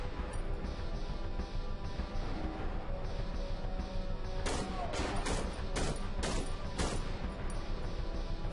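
Burst of gunfire in the horror video game Cry of Fear, several sharp pistol shots in quick succession over a constant dense game backdrop of rumble and ambience.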